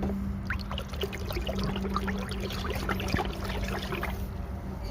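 Liquid for a grape vine pest spray, made with drops measured into 5 liters, is stirred in a container; a continuous close watery swishing and trickling goes on with a low steady hum underneath.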